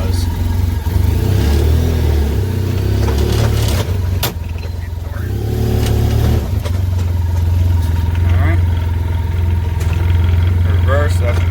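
A 2015 Arctic Cat Wildcat Trail 700 UTV engine hums low and steady while driving in high gear, a continuous close drone with a voice talking over it.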